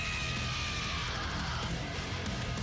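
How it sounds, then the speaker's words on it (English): A female metal vocalist lets out a harsh, distorted scream in a recording. It is sustained, loud and dense throughout, with no pauses. "So I've got her scream here."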